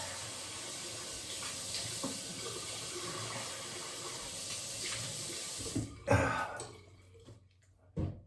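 Tap water runs steadily from a bathroom faucet as someone rinses off after shaving a beard, then cuts off near the end with a few brief clatters and drips.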